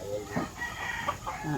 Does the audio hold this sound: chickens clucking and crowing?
yes